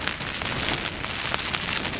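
Rain patters steadily on the fabric of a Hilleberg Jannu tent pitched at the top of a cliff edge, a dense, even hiss with scattered sharper drop taps, close and continuous with no voices.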